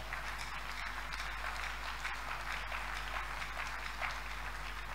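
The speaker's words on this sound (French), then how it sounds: "que l'église acclame alors que les chantres montent" A church congregation applauding steadily, a dense, even wash of clapping from many hands over a constant low hum, with no break in the applause.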